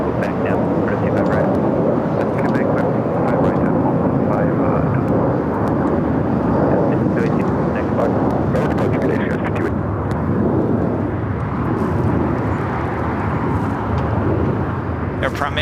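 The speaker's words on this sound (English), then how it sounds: "Air Premier starting taxi, heading to 25 right." Airliner taxiing toward runway 25 right at Los Angeles LAX airport, a steady broadband jet engine rumble and whine holding at constant loudness throughout, with voices talking over it.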